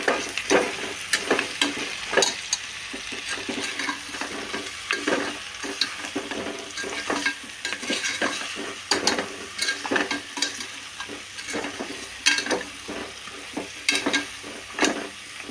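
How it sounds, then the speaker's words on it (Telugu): Chili powder stirred into a goat curry frying in a pan, a steady sizzle under repeated scraping strokes of a spoon, close and continuous, with no talking. "రెండు స్పూన్ల కారం, వేసి తిప్పుకున్నామండి."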